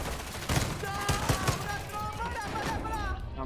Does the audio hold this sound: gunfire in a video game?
yes